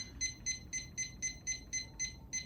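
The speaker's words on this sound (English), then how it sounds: "I'm going to set my alarm" A quiet alarm being set chimes out nine short, evenly spaced electronic beeps in steady rhythm over a low background hum, with no talking.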